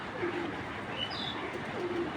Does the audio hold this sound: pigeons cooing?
yes